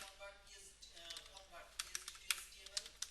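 Quick, uneven keystrokes clatter on a computer keyboard, with clustered clicks growing sharper toward the end, under quiet speech.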